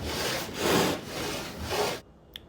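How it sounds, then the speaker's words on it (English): A router rides a router sled across a live edge wooden desk top, giving a rough, surging cutting noise in several pulsing passes that ends abruptly with a faint click. "You take your router and you go out like this."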